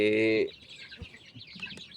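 A yellow rooster and chickens with their chicks at a farm: one loud, drawn-out crow opens, followed by soft scattered clucks and chirps from the flock nearby.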